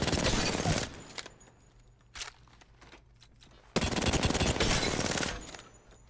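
R99 submachine gun firing in Apex Legends played on console: two loud, close bursts of rapid automatic fire, the first about a second long and the second about two seconds, with quieter game ambience and a few clicks between them.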